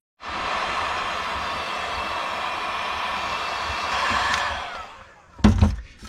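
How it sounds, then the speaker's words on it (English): A heat gun blows with a constant loud, close roar for about five seconds as it shrinks heat-shrink tubing over crimped wire connections, then cuts off, followed by a short clatter. "Let's heat shrink these."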